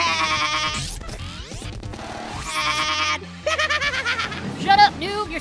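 Several loud, wavering bleats ring out in quick succession, close and nasal, with a cartoonish, exaggerated quality.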